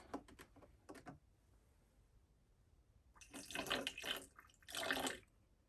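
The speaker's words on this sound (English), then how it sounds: "Now I'm going to add a little bit more water" Water poured into a container while making CBD oil, a short splashing pour rising then tailing off, faint and close, with no talk over it.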